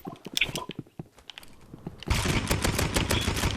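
Gunfire in the shooter video game Rivals: scattered sharp shots and clicks at first, then a loud continuous rapid burst of shooting that fills the rest of the clip, with no talking.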